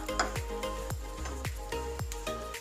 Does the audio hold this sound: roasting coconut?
yes